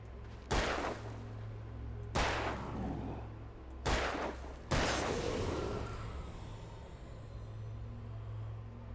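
Four loud gunshots from Alan Wake, each a sharp crack with a booming echoing tail, spaced irregularly over a low droning background, then the reverberation fades into quiet ambience.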